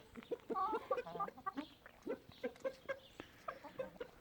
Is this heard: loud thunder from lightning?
no